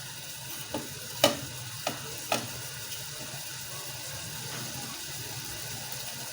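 Minced beef with tomatoes fries in a pan under a constant low sizzle, with a few sharp scraping clicks of a spoon stirring the mixture, no voices.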